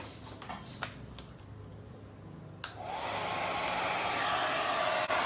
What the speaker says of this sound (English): I'm going to dry it with a hair dryer